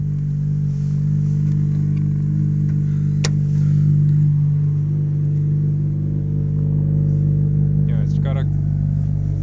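A 2013 Honda Civic Si with a 6-speed manual idles steadily, its deep exhaust tone a low continuous rumble close by, with someone speaking briefly over it.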